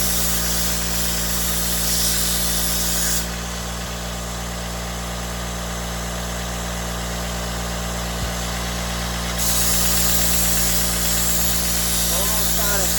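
A steady, loud motorized grinding drone while a bread knife is sharpened to reestablish its bevel, the tone shifting briefly midway as pressure changes, continuous throughout.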